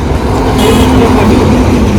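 A car driven along a road, steady engine and road rumble with a faint tonal hum throughout, close and loud with no talking.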